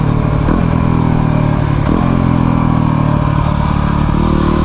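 A Yamaha WR250R 250cc dirt bike on the way to a beach, its single-cylinder engine droning loud and close with small rises in revs as it is thrown around.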